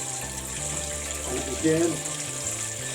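Hot water drained out of a pan into a sink, a steady watery rush and trickle with a brief louder splash, while a voice talks over it.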